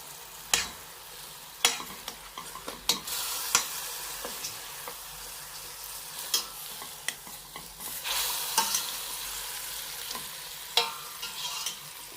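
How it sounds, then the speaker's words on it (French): Onions frying in oil in a cooking pot for a meat and vegetable stew, with steady sizzling broken by repeated stirring scrapes and clatters, close and fairly loud, no talking. "Donc je vais caraméliser les oignons."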